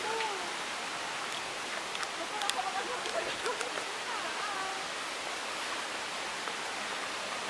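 Hulugan Falls in Luisiana, Laguna pours as a dense, steady hiss of falling water that washes over everything, with faint voices and a few bird-like chirps barely above the roar.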